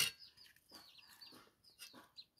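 Chickens cluck in short, soft bursts, several calls spread over a couple of seconds, fairly close but quiet, with no talk.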